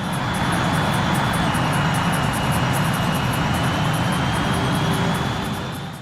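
Steady, loud roar of an Su-35 jet fighter's engine in flight in the Ace Combat 2 video game, a continuous wash of engine noise with no talking.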